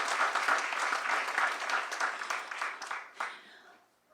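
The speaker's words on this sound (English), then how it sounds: "One final round of applause for Brian, Lisa, and Tisha for all of this organizing and planning labor." An audience at a university poetry reading for writers of color gives a final round of applause, a moderately distant wash of clapping that thins out and fades near the end.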